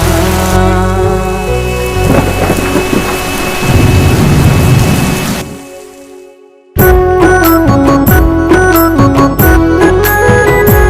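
Rain with rumbling thunder plays loudly over a tune for several seconds, fades into a brief near-silence, then the music returns.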